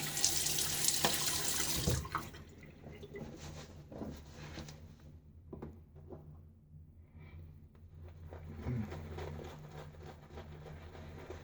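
Water runs from a tap into a sink before shaving, first as a strong close rush for about two seconds, then easing into softer splashing and trickling as hands cup it to the face.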